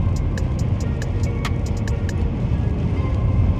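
Steady road rumble heard from inside a moving car, a low broadband drone with a few faint ticks and clicks, continuous and fairly loud with no talking.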